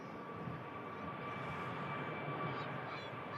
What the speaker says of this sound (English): Airbus A400 of the Belgian Air Force, just going over the top of us there